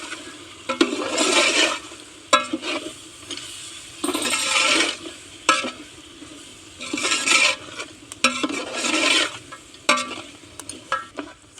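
Spices being stirred into mutton masala pulao in a large pot, loud repeated bursts of scraping and wet sizzling as the ladle turns the rice, coming in uneven strokes with short pauses between them.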